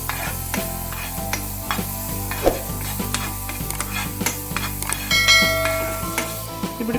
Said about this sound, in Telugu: కొద్దిగా గార్లిక్, ఆనియన్స్ ఇవన్నీ కొద్దిగా లైట్ ఫ్రై అయ్యే వరకు పెట్టుకుందాం